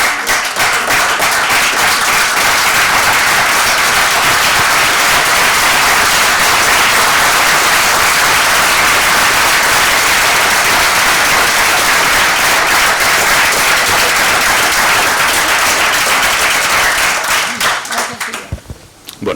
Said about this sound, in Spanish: Iba a proponer que nos levantásemos y le aplaudiéramos